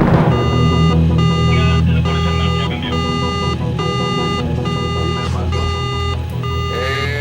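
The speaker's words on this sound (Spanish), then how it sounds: "las alarmas de la primera boya saltaron en el Calypso." An alarm from an ocean buoy goes off aboard the ship Calypso, a steady repeating electronic beeping pattern that runs throughout, loud and continuous over a low rumbling background.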